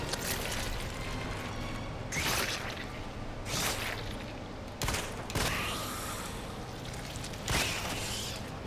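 Shotgun shots in Resident Evil 2 Remake, with five sharp blasts at irregular intervals a second or more apart, each with a brief trailing rush over a steady background of game sound, with no talking.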